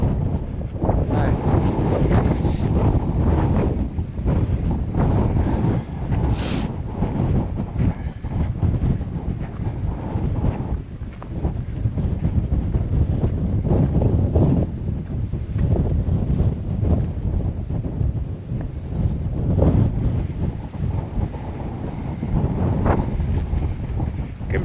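Strong wind buffets the microphone aboard a boat passing through harbour narrows, a loud, constant roaring rumble with gusty surges throughout, no talk heard over it.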